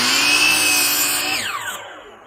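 Power saw blade ringing loudly as it cuts a wooden board, then winding down with a falling whine as it spins to a stop and fades out.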